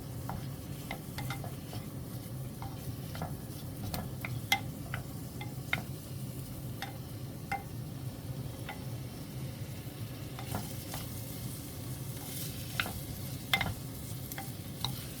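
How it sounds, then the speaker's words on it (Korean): Ingredients stir-fried over low heat in a hot earthenware ttukbaegi pot for Korean sundubu-jjigae, with a steady soft sizzle and repeated light clicks of a utensil scraping and tapping the pot throughout. "어느 정도 달궈질 때 불을 약불로 해서 볶아주세요"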